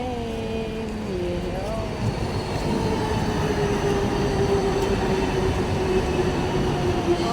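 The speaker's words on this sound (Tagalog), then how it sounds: "Yung light rail. Light rail." A light rail train passes steadily in Hong Kong, a continuous low rumble of wheels with a rising and falling tonal whine, while people talk faintly beside the track.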